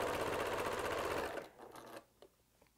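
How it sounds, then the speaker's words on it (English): A sewing machine runs fast and steady, stitching back and forth to sew an X on a quilt block, then stops after about a second and a half, leaving faint clicks and handling noise. "make your little X by over sewing in each direction"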